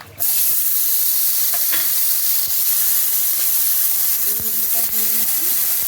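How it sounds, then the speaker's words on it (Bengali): Eggplants frying in oil in a wok, a steady loud sizzling hiss that starts abruptly and holds throughout, with a few faint clinks and brief tonal scrapes near the end. "এখন এই কড়াইয়ের মধ্যে আমি দিয়ে দেবো বেগুনগুলো।"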